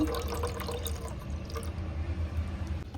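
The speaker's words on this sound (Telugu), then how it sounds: "ఇప్పుడు పాలు పోసుకుందాం" Buffalo milk pours steadily into a pot for ginger tea, a continuous close splashing gurgle lasting the whole few seconds.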